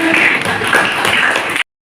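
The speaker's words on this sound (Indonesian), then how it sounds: "Oke, tepuk tangan." Audience applause at a teacher training session, a dense wash of many hands clapping steadily for about a second and a half before cutting off abruptly.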